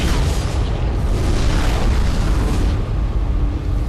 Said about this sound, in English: Now that we've blown our way out of this situation, an explosion is always a good start to some more action, right?